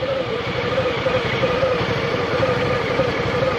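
A Hyosung DayStar 900 motorcycle idles nearby with a steady, even low engine rumble throughout, alone and without talk.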